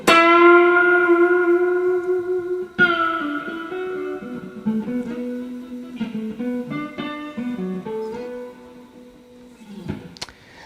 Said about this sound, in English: that's the power amp on full and the reverb on about 4 and the volume on 4